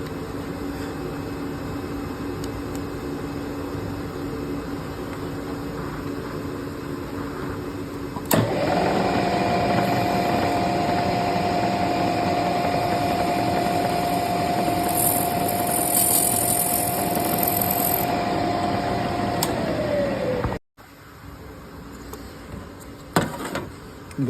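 A drill bores a detent hole in a knife blade held in a clunky fixture, a steady machine hum that rises to a loud sustained whine for about twelve seconds, then cuts off abruptly.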